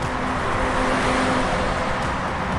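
A taxi cab on a road, heard as a steady engine and traffic rumble with a faint tonal hum, close and continuous throughout without pauses.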